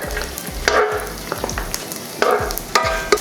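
Garlic hits hot light olive oil in a pan, giving a bright crackling sizzle with repeated stirring scrapes and clanks at a steady pace, close and fairly loud.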